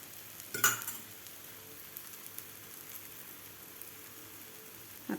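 Oil poured onto an aloo palak paratha cooking on a hot pan, a brief clatter and then a quiet, steady low sizzle continuing alone, with another small knock at the end.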